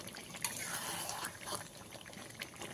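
Hot water goes into a browned chicken curry with potatoes, making a short, close splashing pour and a trickle over a bubbling pot, with faint background sound.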